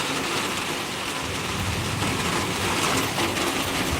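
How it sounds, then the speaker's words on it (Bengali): Heavy rain pours down steadily at night, a dense, continuous hiss of drops on surfaces close by with no voices. "আর আমাদের এখানে বৃষ্টি বাবারে অনেক জোরে বৃষ্টি হচ্ছে"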